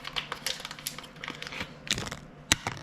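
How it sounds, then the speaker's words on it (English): A plastic bag crinkles and rustles faintly as a small electronics board for a kit is pulled out of it, with scattered soft crackles and a sharper crunch near the end. "So I'm gonna take it out of the bag."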